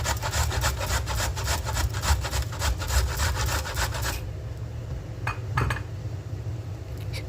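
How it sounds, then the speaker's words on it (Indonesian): Peeled cassava is rubbed against a sawut grater in quick, rhythmic rasping strokes for about four seconds, then a few sparse scrapes and clinks follow with no talking. "kita parut seperti ini ya, dengan parutan sawut ya ini ya"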